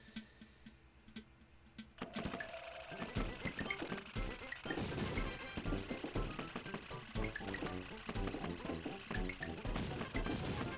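Exploding tanks in the video game Wii Play Tanks set off a dense, rapid barrage of crashing blasts that starts after a quieter opening and keeps going without a break.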